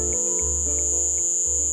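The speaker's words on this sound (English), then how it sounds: "Crickets." Crickets chirp loudly and steadily, with a continuous high-pitched trill and a faint pulsing beneath it, and no talk.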